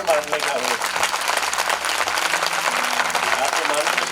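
A church congregation claps loudly and continuously through a worship service, the dense applause running under a voice that speaks over it throughout.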